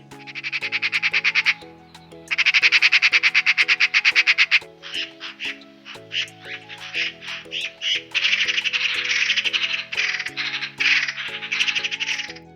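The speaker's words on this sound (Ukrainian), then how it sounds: "А як кричить сорока?" Harsh, rattling magpie chatter calls in long bursts, loud and close, layered over background music with brief pauses between the runs.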